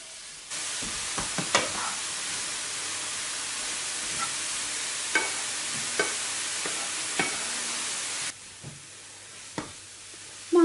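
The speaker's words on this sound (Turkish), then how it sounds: "Doğradığımız mantarları ekleyip suyunu çekene kadar pişirelim." Sliced mushrooms sizzle in a hot pan under a steady hiss, cooking until their liquid evaporates, with occasional clacks and scrapes of a utensil stirring them.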